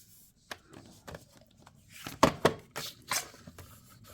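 Scissors snip through a pink paper card mat in a few quiet, crisp cuts, clustered near the end amid soft handling rustles.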